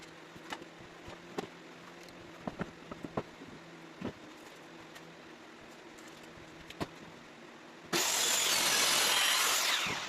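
A power saw cuts scrap plywood into two pieces in a short, loud burst near the end, after a stretch of quiet shop clicks and light knocks.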